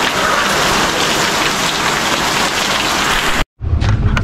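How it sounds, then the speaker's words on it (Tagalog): Heavy rain pours down steadily around a bamboo hut under construction, a loud, dense roar that cuts off abruptly near the end, followed by a brief, quieter stretch of rain. "Kaya napakalakas ng ulan."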